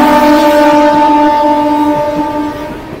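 A train pulls into the station platform from the yard and sounds a long, loud, steady tonal horn close by that tapers off near the end, with no voices.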